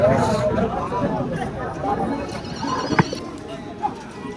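Horse hooves clip-clop amid a busy outdoor crowd at a horse market in Tulshipur, with people talking throughout and a brief whinny-like cry near the middle.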